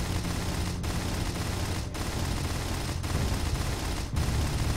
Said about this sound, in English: Use the gouge mining cannon.